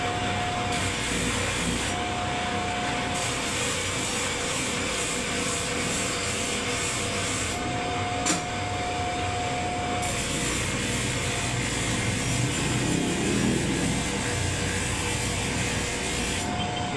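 A grass cutter blade being sharpened gives off a steady, loud abrasive grinding and rubbing that runs without a break, with a faint whine coming and going underneath.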